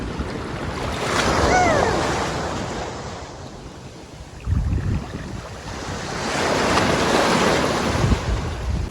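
Sea waves break and wash up on a warm beach in two broad swells, loud and close, with steady wind rumble on the microphone and no voices.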